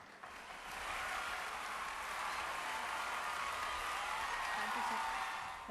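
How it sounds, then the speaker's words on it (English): Applause for panelists at NABARD's 44th Foundation Day celebrations, a broad, steady wash of clapping from a large audience that swells in after a moment and holds evenly, heard from a distance. "Please give them a big round of applause."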